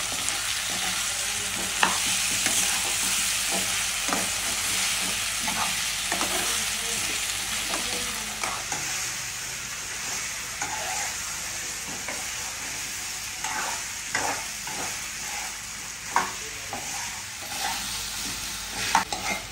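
Onions, green chillies, ginger-garlic paste and potatoes sizzle in a pan over a low flame, with repeated scraping and stirring clatters against the pan's steady frying hiss throughout.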